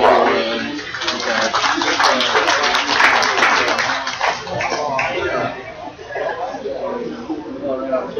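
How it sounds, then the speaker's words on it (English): Sustained crowd applause at a 2013 Wisconsin championship dairy cow show, welcoming the judge; a dense, steady clapping wash fills the hall for about eight seconds at fairly close range. "let's welcome our judge, Callum McKinnon, with a nice round of applause"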